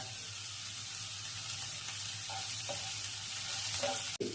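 Whole dried red chillies and curry leaves sizzling in hot oil for lemon rice tempering, a steady loud frying hiss throughout with a few faint stirring scrapes and one sharp knock near the end.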